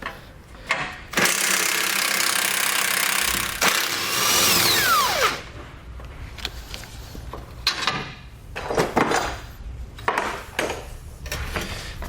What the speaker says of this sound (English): we'll grab an 18mm socket and an 18mm wrench, and we're going to remove all the hardware here and the tow hook itself.